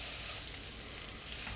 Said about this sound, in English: Posto in poppy seed in mustard oil tastes really good. I'll get it fried a little bit